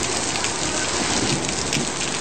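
Heavy rain from a powerful south Florida storm pours down in a dense, steady wash, loud and unbroken throughout, with no voices.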